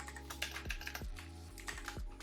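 Quick, close clatter of typing on a computer keyboard, a dense run of crisp key taps with a few heavier strokes, steady and unaccompanied by speech.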